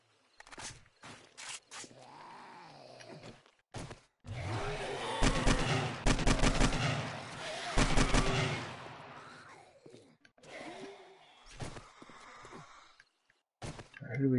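Shooters fire in the video game 7 Days to Die: clusters of sharp, rapid gunshot bursts, loudest in the middle of the stretch, mixed with someone talking and sighing between volleys.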